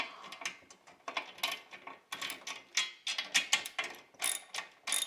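A hand ratchet loosens a bolt on a tow-behind aerator during assembly, giving quick bursts of crisp clicking pawl ticks in uneven strokes, close and fairly quiet with no talking.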